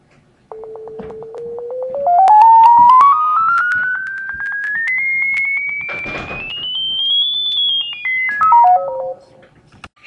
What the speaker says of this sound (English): students can use the slider to change the pitch and hear how a sound changes